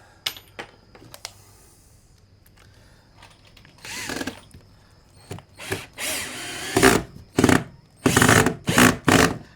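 Power drill driving a screw into a mobile home floor: scattered clicks and a few brief trigger pulls, then several loud whirring bursts of increasing length, close and repeated.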